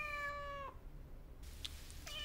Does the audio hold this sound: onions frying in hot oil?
no